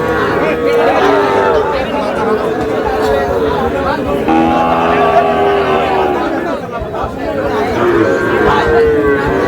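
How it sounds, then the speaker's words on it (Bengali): Sahiwal bull calves moo and low repeatedly amid a busy cattle market crowd, with people chattering, bargaining and calling out nearby. "শাহিওয়ালের ষাঁড়"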